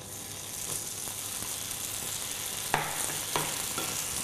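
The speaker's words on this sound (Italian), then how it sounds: "Ecco, sentite come sfrigola." Tofu browning in a pan with a little oil, a soft continuous sizzle and frying hiss, with a couple of sharp stirring scrapes near the end and no talk.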